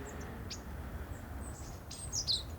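Birds sing along a forest path, giving a few faint, scattered chirps and short tweets over a low steady outdoor rumble, with no one speaking.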